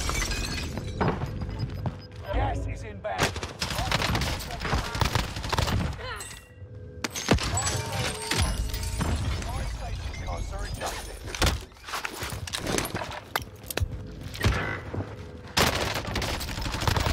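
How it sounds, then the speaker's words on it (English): Gunfire in a Call of Duty Warzone match, with a Lapa SMG in the loadout: dense bursts of shots and sharp cracks, some close and some farther off, running steadily under a player's talk. "Taking fire here."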